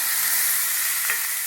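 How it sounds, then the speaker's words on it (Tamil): Chopped tomatoes go into a pan of sizzling shallots for sambar, giving a loud, continuous hiss of frying close by, with no talking. "நம்ம இதோட நம்ம நறுக்கி வச்சுருக்கிற தக்காளியை சேர்த்துடலாம்."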